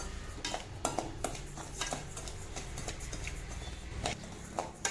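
Kuruthavalli rice being dry-roasted in a pan while stirred, giving a steady scraping, rattling texture with repeated clinks of the spoon against the metal, loud and close throughout.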